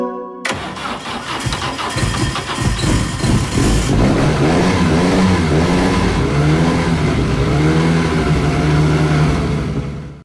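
A 1945 Vapid Winky in GTA San Andreas, a 60-horsepower car with no exhaust installed, cranks and catches, then a loud, close engine revs up and down in wavering pulls before settling.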